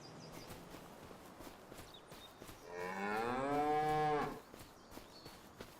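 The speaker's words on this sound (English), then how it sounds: "Cows practicing their slow-mo for the movies." A cow in the pens on the Riverview map of Farming Simulator 25 lets out a single long, loud moo in the middle, with quieter farm background before and after.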